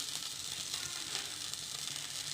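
Vegetables fry in one to two tablespoons of oil in a frying pan, a steady, soft hiss that continues evenly with no talking.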